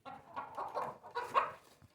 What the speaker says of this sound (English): chicken that is testing this for us already